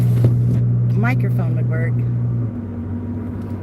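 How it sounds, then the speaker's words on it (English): A loud Ford Explorer with an exhaust leak drones with a steady low engine rumble from inside the cabin while a person talks over it; the rumble drops noticeably partway through. "My car is so loud. It has an exhaust leak, an oil leak."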